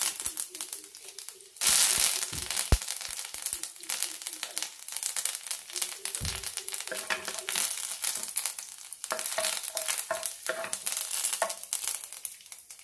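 Red chillies and curry leaves hit hot ghee with popped mustard seeds, bursting into a loud crackling sizzle that settles into steady frying with scattered spatters and stirring scrapes, close and without talk.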